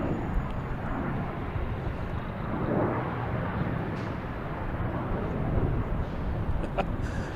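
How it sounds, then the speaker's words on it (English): A JetBlue Airbus A220 airliner arriving from Detroit at Boston Logan gives a steady broadband jet roar, loud and constant, with a slight swell in the middle as it passes. "We have JetBlue coming in from Detroit in A220."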